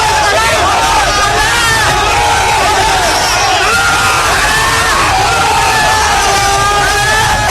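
Fans crowd outside a polling booth cheering and shouting as actor Ajith Kumar arrives by car, a loud, continuous roar of hubbub, whoops and chanting voices with no break throughout.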